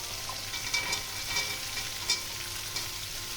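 Malabar spinach stalks fry in hot oil in a pan, a steady close sizzle with occasional stirring clicks and scrapes of a spatula, no voices.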